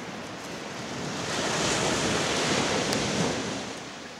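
Sea waves at a beach roll in as a broad, steady roar that swells louder toward the middle and eases slightly at the end, with some wind rumble and no voices.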